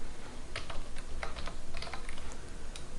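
Close, quick computer keyboard typing, a flurry of light clicking keystrokes in irregular bursts over a low room hum.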